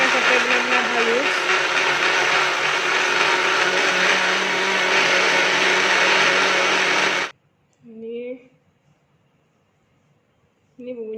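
A blender grinding spice paste whirs loudly and steadily for several seconds, then stops abruptly, followed by quiet with brief bursts of a voice.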